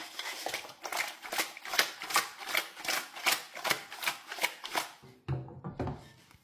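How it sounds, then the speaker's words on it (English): Spinach stew seasoned with thyme, curry powder and all-purpose seasoning is stirred in a pot, giving a steady rhythmic run of close scraping, clicking strokes, about a dozen in quick succession, before a lid-like clatter near the end. "Now I'm going to stir"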